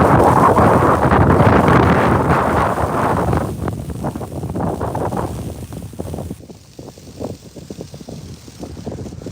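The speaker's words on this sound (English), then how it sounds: "it got extra cold and the wind has not stopped" Strong, cold night wind at a fishing spot roars loudly into the microphone, buffeting heavily at first, then easing into gustier rumbles with some faint clatter.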